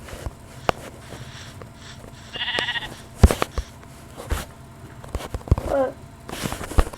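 Sheep bleat in a Minecraft game, a few short nasal calls mixed with footsteps and clicking game sounds, with a little talk around them.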